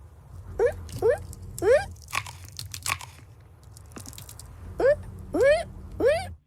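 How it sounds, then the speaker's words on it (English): A chipmunk crunching roasted chestnuts beside a crackling open fire, with sharp bursts of crunching and gnawing in two clusters over a low steady crackle of the fire, with chirpy squeaks between. "You can hear them crunching into those chestnuts."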